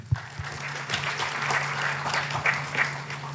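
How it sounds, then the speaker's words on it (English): Steady applause from a sizable audience, moderate in volume, with a faint hum beneath and a few sharper claps standing out. "Let's give a huge round of applause for our panel and moderator."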